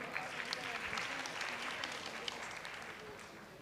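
Audience at a youth delegate conference applauding a Best Delegate Award winner, steady dense clapping held at an even level for a few seconds, with faint voices beneath.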